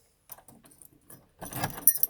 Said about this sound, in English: Keys. These are the keys.